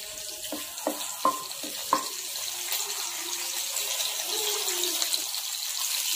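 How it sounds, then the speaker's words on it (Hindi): Curry leaves crackle in two tablespoons of hot oil in a pan, with a few sharp pops early on over a continuous bright hiss. "पैन में 2 टेबल स्पून ऑयल डालकर ऐड करते हैं कड़ी पत्ता,"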